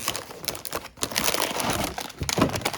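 Plastic packaging of a 400 gram pack of supermarket choc chip cookies being opened, with loud, close, continuous crinkling and rustling that pauses briefly in the middle.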